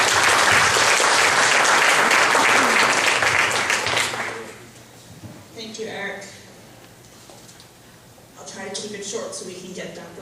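Loud audience applause for speaker Lisa Vassallo at an Ocean County Tea Party meeting, a dense burst of clapping lasting about four seconds before fading into scattered voices and a few more claps.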